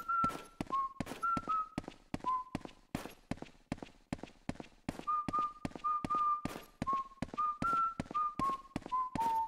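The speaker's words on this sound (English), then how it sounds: "Luigi's whistling of the main theme as he walks through bright rooms" Luigi whistles the main theme of the video game Luigi's Mansion in short, clear melodic notes over a steady run of quick footstep thuds as he walks, with no talking.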